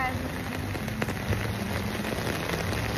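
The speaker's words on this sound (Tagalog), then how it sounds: "Ang lakas ng ulan." Heavy rain pours at a beach in Binmaley, Pangasinan, a dense, steady hiss of drops drumming on surfaces and a tent, continuous and loud throughout.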